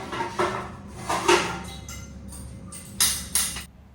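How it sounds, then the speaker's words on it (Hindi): Dishes, pots and utensils are washed by hand at home, with irregular bursts of clinking and clattering metal over a low steady background. "तो बस अभी मैं यहाँ पे सारे बर्तन साफ़ कर दे रही हूँ।"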